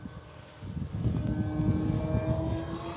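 Arrows Trekker 1.2 m RC airplane at full throttle: a steady, droning motor whine that swells after a moment and holds loud and continuous, its pitch shifting slightly as the plane moves.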